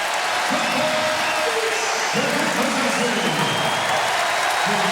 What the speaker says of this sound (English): And this capacity crowd is loving it.